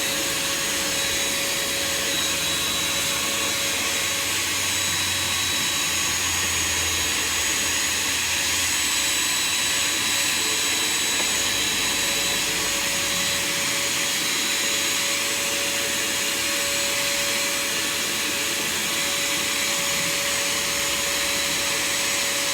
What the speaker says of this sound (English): I'm going to vacuum it off a little bit.